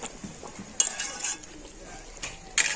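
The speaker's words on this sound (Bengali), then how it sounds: "তো এবার একবার ঢাকা খুলে নেড়ে দেব" Chicken cooking in its own juices in a pot, stirred after the lid comes off, giving a few sharp metallic clinks of utensil on pot over a soft simmering sizzle, close by.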